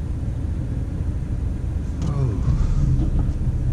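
A Ford Focus track car sits running in a driveway, giving off a steady, loud, low engine rumble that swells slightly partway through.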